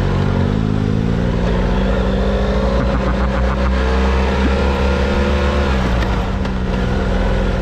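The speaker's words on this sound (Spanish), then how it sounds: "Se va cargado y haciendo la pista, míralo. Ni se mueve la moto ni el equipaje." A loud motorcycle loaded with luggage rides a dirt track through the Todra and Dadès gorges in Morocco, its engine droning steadily and revving close up the whole way, with no talk.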